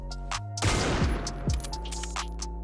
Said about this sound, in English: You can shoot through the sus trash can with all of the wallbangable weapons